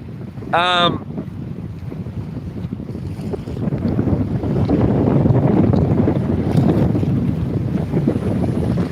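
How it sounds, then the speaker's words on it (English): Wind picking up over the ocean during a fishing and camping trip, a broad rushing roar buffeting the microphone and swelling louder over several seconds, with a brief whistle-like tone near the start. "The wind's starting to blow."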